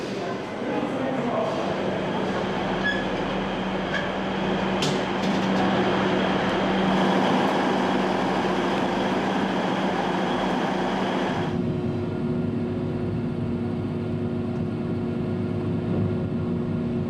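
A train runs on its rails in Germany with a continuous loud rumble and hum that drops to a lower, quieter drone partway through.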